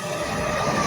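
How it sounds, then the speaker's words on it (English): An LNER Azuma train passes, a brief steady rumble and rushing wash of rail noise, moderately loud and continuous over the short moment with no talk. "Here comes a LNER Zima on a service from"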